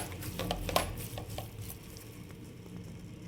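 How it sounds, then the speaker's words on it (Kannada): Spinach stirred and fried in ghee in a pan for a home-style palak curry, giving soft scraping and clinking of a spoon against cookware with a faint sizzle, one sharper knock early, steady and close with no talk. "1-2 ನಿಮಿಷ ಈ ಥರ ಫುಲ್ ಮಿಕ್ಸ್ ಮಾಡಿಕೊಂಡು ಫ್ರೈ ಮಾಡ್ಕೊಳ್ಳಿ."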